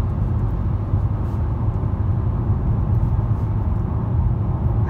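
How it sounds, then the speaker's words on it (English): Steady broadband road roar from a 2020 Nissan Maxima SV cruising, tires humming low and constant inside the cabin with no talk, a smooth continuous wash without breaks. "I hear a little bit of tire noise, especially over these little strips right there."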